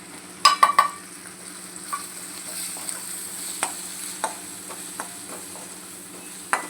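Spices go into hot oil with carrot, cauliflower, potato and pea sabji and are stirred in a pan: a steady sizzle, a quick cluster of sharp utensil clatters at the start, then scattered scrapes and taps.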